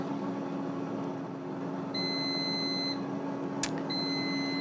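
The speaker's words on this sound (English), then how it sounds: "We'll just wait for the last little beep here." An air fryer beeps twice as it finishes cooking Scotch eggs, steady high tones about a second long, over a constant fan-like hum.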